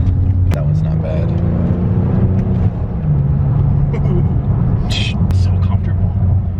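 A Ford Taurus SHO with paddle shifting and electric power steering being driven, its low engine rumble and road noise steady throughout the cabin while people talk over it.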